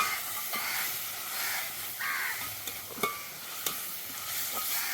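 Cumin is stirred into a sizzling prawn curry masala in a Sri Lankan village-style kitchen, producing a soft, continuous frying hiss with occasional sharp scrapes. Crows caw in the background.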